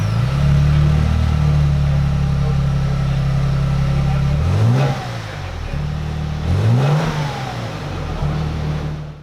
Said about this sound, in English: The exhaust sounds great right out of the gate